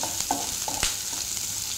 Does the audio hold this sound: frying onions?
yes